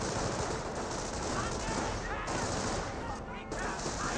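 Dense, continuous bursts of suppressive machine-gun fire and battle noise from the World War II strategy game Company of Heroes, sustained and loud throughout with no pause.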